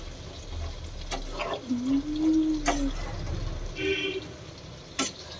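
A little water is poured into a pot of spicy cooking food, giving a soft splash and hissing sizzle with a brief hum nearby.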